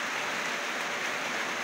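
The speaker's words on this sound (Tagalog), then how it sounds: "wala siyang hangin, kaya yung ulan steady lang yung ulan" Steady, windless rain during an overnight downpour near a quarry, a dense even hiss of falling water that stays constant and close throughout with no gusts or voices.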